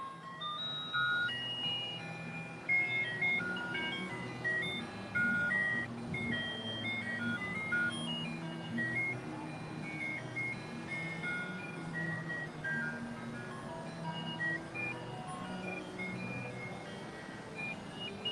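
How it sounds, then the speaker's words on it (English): A tinkling electronic ice cream truck jingle plays continuously at steady volume, melodic tones repeating over faint background hum, with no voices. "Sounds like an ice cream truck coming by."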